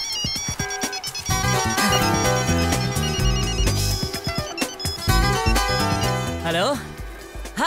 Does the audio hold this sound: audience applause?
no